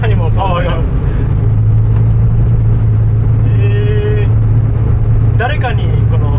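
A modified Subaru R1 kei car accelerates with a loud, steady engine drone and road rumble heard from inside the cabin, while people talk over it.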